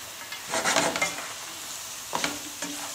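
Nuts are stirred in a pan over medium heat for a gnocchi and asparagus dish: soft scraping, rustling strokes in two short bursts with a faint sizzle underneath, close and fairly quiet.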